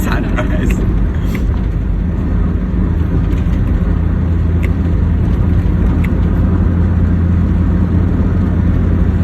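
Steady car engine and road noise while driving through busy Yogyakarta traffic of cars and motorbikes toward Setumbu hill before dawn, a continuous loud rumble with faint voices underneath.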